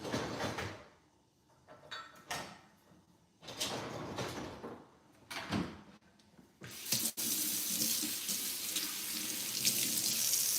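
Tap water runs to wash a spatula, a steady close hiss of running faucet water that comes on near the end after a few bursts of clattering and handling at a kitchen sink.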